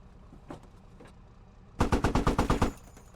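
Turret machine gun on a Turkish faction tank in the Squad video game firing a single burst of about nine rapid, loud shots near the end, after a quieter stretch with a couple of faint knocks.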